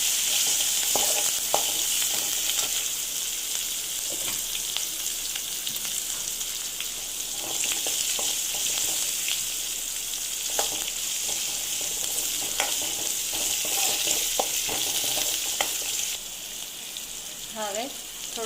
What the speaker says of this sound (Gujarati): લીમડીના પાન એડ કરીશું. લીલા મરચાં એડ કરીશું. થોડી વાર શેકાવા દઈશું.